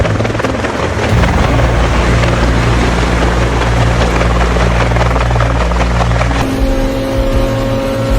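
A helicopter losing control after takeoff roars close by with a dense, steady rotor chop that stays loud throughout, its pitch shifting near the end.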